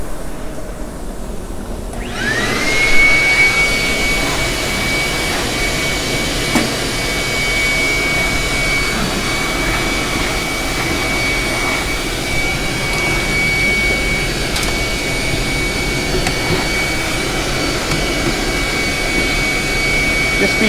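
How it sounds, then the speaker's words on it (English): A loud vacuum cleaner starts up and drones steadily with a high whine, cleaning dust from conveyor dryer components close to the microphone. "And now we're going to vacuum these components."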